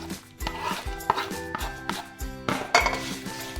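Dried chillies, coriander seeds, fenugreek and whole cumin are dry-roasted in a pan, producing close, irregular metallic clinks and knocks as a utensil stirs and scrapes the spices against the pan.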